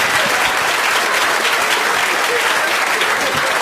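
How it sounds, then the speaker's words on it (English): Loud, dense applause fills a comedy club showcase, a crowd clapping steadily and evenly close by, with some voices mixed in. "Clap your hands. Let me hear you."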